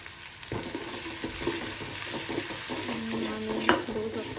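Chili masala powder sizzles in an oiled pan for an Agri Koli style pakhat recipe, with a constant close frying hiss, scraping stirs and a sharp clink of a spoon near the end.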